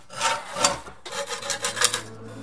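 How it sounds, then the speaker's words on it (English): Wooden katana parts, CNC-cut, being sanded and separated from their holding tabs, giving steady close rasping and rubbing strokes in uneven bursts, with no talking. "it was time to sand them, starting with carefully separating them from the tabs"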